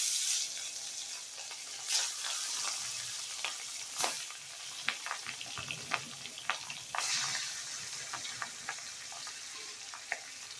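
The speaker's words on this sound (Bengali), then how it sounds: "এবার এর মধ্যে মাছগুলো আস্তে আস্তে ছেড়ে দেব।" Pieces of katla fish sizzle and crackle steadily in hot oil in a pan, with sharp spitting pops scattered throughout, close and fairly loud with no voices.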